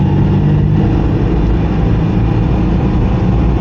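A Citroën 2CV engine revved up high, a loud continuous low drone that holds steady throughout with no clear breaks.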